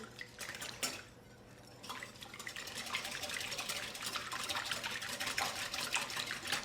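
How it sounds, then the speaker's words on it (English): Coconut flour mixture whisked in a bowl for a keto pumpernickel bread: a whisk clatters quickly and steadily against the bowl, close and moderately loud, with a brief lull before the brisk rhythm settles in. "I'm just going to whisk those together quickly."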